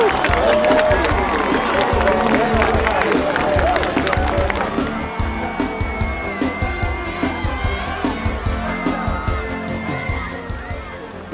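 A high school football crowd cheers after an 81-yard touchdown run, a loud, dense roar of voices that gradually settles into a broad, steady crowd noise.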